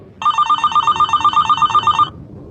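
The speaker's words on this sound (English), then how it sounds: "when the phone rang" A telephone rings in a quiet hotel room at night, a close, loud electronic bell trilling in rapid regular pulses for about two seconds before stopping.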